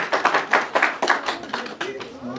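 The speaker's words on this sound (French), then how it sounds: "Applaudis, applaudis, applaudis, applaudis, bien fort, bien fort." A crowd claps hard at a wedding celebration in a quick, loud, rhythmic run of about a dozen close hand claps that tapers off toward the end.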